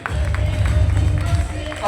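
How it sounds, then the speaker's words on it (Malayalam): An audience applauding at a medal award ceremony in an auditorium, a dense, steady wash of clapping from many hands heard up close for a couple of seconds. "നല്ലൊരു കൈയടി."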